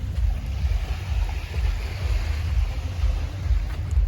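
Low, rolling surf washes onto a black sand beach on Santorini after sunset, a steady rumbling wash under gusty wind on the microphone, with no voices.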